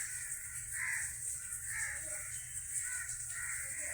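Crows calling at evening, several harsh caws repeating at irregular intervals over a low steady background hum, moderately close.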